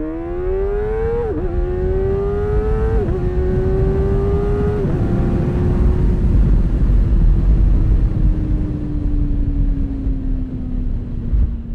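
A motorcycle at full throttle with a quickshifter, the engine note climbing hard and loud through several quick upshifts, each change a brief dip before the pitch rises again, then settling into a steady high-speed drone.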